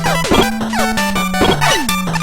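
Default background music from a Mega Man level dev kit plays loud and bright, with busy chiptune-style melodic runs and a steady bass line, and no voices.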